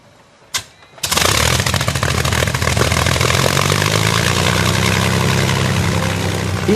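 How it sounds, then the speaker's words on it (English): A Rolls-Royce Merlin aero engine on a Lancaster bomber catches after a brief cough, then roars into a steady, loud, close running drone with deep throbbing under a broad rushing wash, alone without voices. "The Merlin, built by Rolls-Royce, is exactly the same engine which powered the Spitfire and its Battle of Britain partner,"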